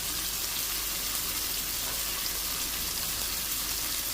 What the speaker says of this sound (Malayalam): പൊരിയട്ടെ